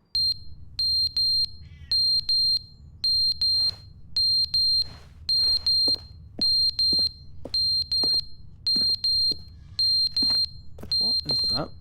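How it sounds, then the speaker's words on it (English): A beeping alarm in The Stanley Parable: Ultra Deluxe sounds in rapid triple-beep bursts repeating evenly about every second, loud and piercing, while someone speaks intermittently underneath. "What is that beeping?"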